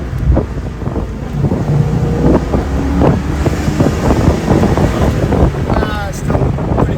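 An SN95 Ford Mustang V8 fitted with Flowmaster mufflers does a second-gear drop, producing a loud, rumbling exhaust burble mixed with gusty wind buffeting.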